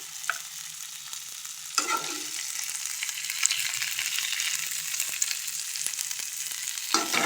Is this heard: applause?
no